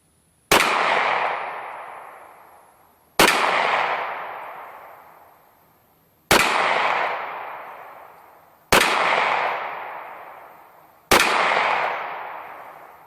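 Five loud, close pistol shots from a Canik TP9SA, fired one at a time about two to three seconds apart, each sharp crack trailing off into a long echoing decay.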